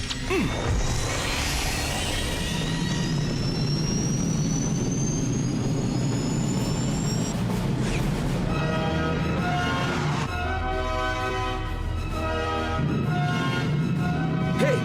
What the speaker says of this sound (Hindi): Engaging rockets. Full thrust.